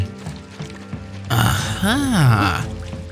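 Watering with water in the video game Luigi's Mansion 2 makes a sudden hissing spray that runs about a second, overlapped by a character's rising and falling voice call, after quieter in-game sounds.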